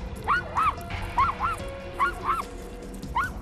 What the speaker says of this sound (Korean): 사람이 보이기만 해도 심하게 짖었는데요.